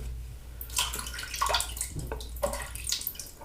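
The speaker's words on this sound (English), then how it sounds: "so I'm going to add some water." Water trickles and splashes from a tap into a shave soap lather bowl, a soft continuous wash with small bursts of splashing, close and alone.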